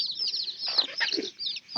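Hens cluck and peep close by in a poultry setting with young chicks, a steady run of short, bright calls over a quiet farmyard background.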